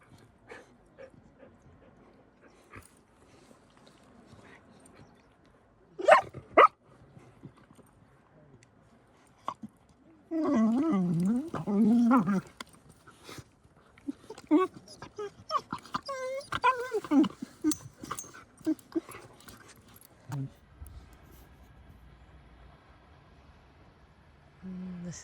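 Dogs inside a parked van give short whimpers, yips and a few barks, with bursts of chewing and mouthing sounds in between, close and intermittent against a quiet interior.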